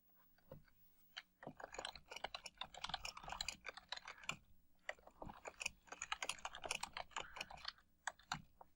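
Typing on a computer keyboard, close and quiet, with quick bursts of clicky keystrokes separated by brief pauses and no talking.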